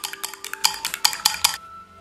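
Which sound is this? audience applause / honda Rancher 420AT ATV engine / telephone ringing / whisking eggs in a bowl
whisking eggs in a bowl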